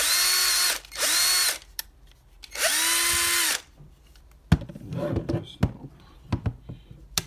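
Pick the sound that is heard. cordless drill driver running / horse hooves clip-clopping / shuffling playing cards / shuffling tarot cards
cordless drill driver running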